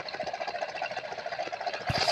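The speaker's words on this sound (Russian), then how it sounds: "послушайте, как у него двигатель работает" A faulty Mercedes car engine runs with a fast, steady, rattling tick, like a clattering sewing machine, heard fairly close and alone, with a louder burst at the very end.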